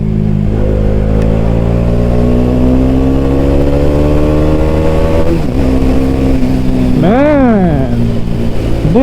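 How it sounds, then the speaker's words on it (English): A 2018–2019 Bajaj Dominar motorcycle engine revs steadily upward for several seconds, then drops sharply through a downshift and blips again, loud and close throughout, with no talking over it. "Man, this thing can rev a lot more than the previous one. And just listen to the downshift."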